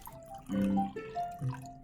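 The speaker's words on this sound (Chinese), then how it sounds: "将芹菜汁儿过滤出来" Celery juice drips and trickles as it is strained for dumpling dough, a few soft, close liquid splashes over a quiet kitchen background.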